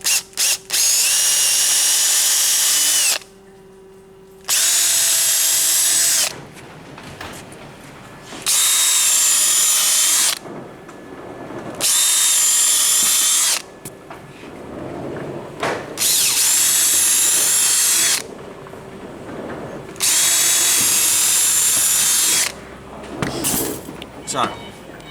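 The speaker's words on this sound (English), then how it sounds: "We just have to drill those holes." A power drill bores holes in wood for a trebuchet base in repeated loud bursts of a few seconds each, with short quiet gaps and brief talk between them.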